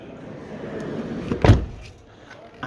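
A Randger R640 camper van door swings shut with a single solid thud, close and moderately loud, amid quiet background rumble before and after.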